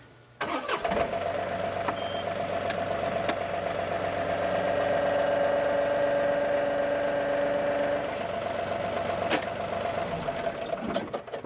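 A tractor engine idles steadily while a Frontier WC 1105 PTO wood chipper is hitched to it. There is a steady mid-pitched hum with a constant whine, a couple of sharp clanks near the start and near the end, and no talk.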